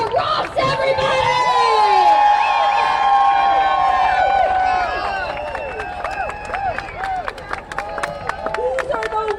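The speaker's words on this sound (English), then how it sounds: "And y'all give a round of applause" A rally crowd gathered outside a state legislature cheers, whoops and applauds loudly for a member of Congress, a dense roar of voices with shouts over steady clapping that thins into scattered claps and calls toward the end.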